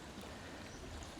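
Creek water after rain flows as a steady, soft broadband rush, faint and continuous, with no voices.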